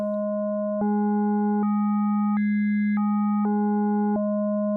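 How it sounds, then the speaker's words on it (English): A synthesized VA oscillator tone in the VPS Avenger 2 synthesizer steps through a sequence of pitches, rising in octave jumps then descending back, steady and clean with no voices. "using octave intervals is actually going to be pretty useful. So let's take a listen to that"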